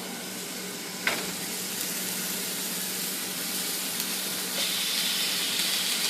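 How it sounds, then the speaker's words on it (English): Top sirloin steaks searing in a hot cast iron pan give a loud, close, continuous sizzle. A sharp clatter comes early as the meat goes in, and the hiss swells brighter near the end. No one speaks. "Got some steaks over here, my cast pan is nice and hot."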